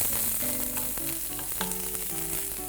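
Finely chopped onion frying in a hot pan, a steady close sizzle with light stirring clicks throughout, no voices.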